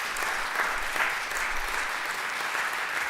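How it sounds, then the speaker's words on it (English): An audience applauds at a Veterans Day concert at a Lutheran church, a dense, steady wash of clapping that fills the room evenly and holds at full strength without fading. "let's let them hear it with a round of applause."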